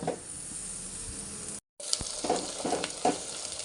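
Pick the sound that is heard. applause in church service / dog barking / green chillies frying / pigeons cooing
green chillies frying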